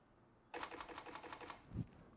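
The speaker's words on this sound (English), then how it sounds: "That's the noise of the shutter going up and down really quickly." Single-lens reflex camera shutter firing in a rapid burst of about ten crisp mechanical clicks, close and distinct, followed by a soft low thump.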